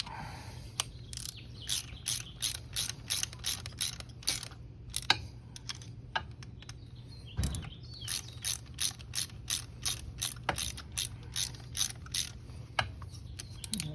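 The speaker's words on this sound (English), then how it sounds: "I'm back with my Allen 5mm. So let's tighten this up." A 5mm Allen key tightens a bolt while a parking brake is fitted to a ZeroSR, making a rapid run of close ratcheting clicks in regular bursts with a brief pause midway. Faint birdsong is heard in the background.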